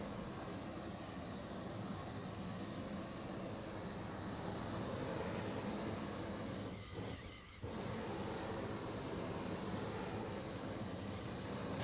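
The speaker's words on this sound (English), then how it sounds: "move the torch to a 90-degree angle to the cable" Gas torch heating heat-shrink tubing on a 15 kV cable splice, a steady loud broadband roar of the flame that wavers briefly partway through.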